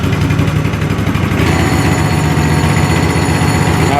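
Small engine on a stone floor grinding machine idling while it warms up, a steady close chugging rumble with even pulsing throughout and no talk.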